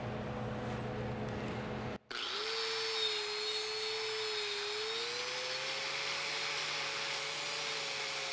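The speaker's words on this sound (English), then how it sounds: "I'm gonna hit it with this wire wheel" A wire wheel on a power tool cleaning metal before TIG welding, starting after a short pause as a steady whirring whine that slowly rises in pitch, moderately loud and alone.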